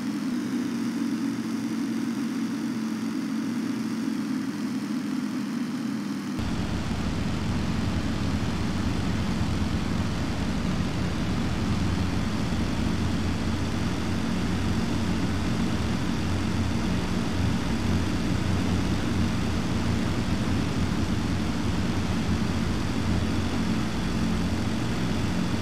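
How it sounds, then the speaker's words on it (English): Four Stuka dive bombers drone overhead at El Alamein in 1942, a loud, continuous propeller-engine roar that holds steady for the whole stretch with a slight shift in tone early on. "Stukas flying overhead, all four of them are flying over the area they just bombed."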